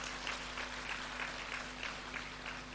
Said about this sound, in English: Ladies and gentlemen, I thought you gave a round of applause.